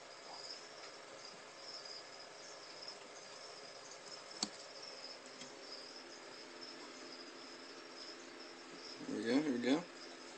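Feeder crickets in a fire-bellied toad tank chirp steadily and faintly in a continuous high trill, with a brief indoor click midway and a person's voice speaking briefly near the end.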